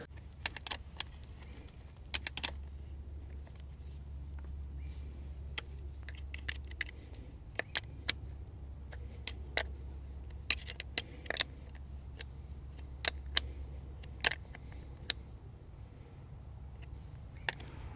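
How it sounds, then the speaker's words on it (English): A metal spanner clicking and ratcheting as jumper lead clamps are tightened on the battery of an old International 6x6 army dump truck, sharp irregular metallic taps over a low background rumble. "Now we just need a spanner to nip them up a bit."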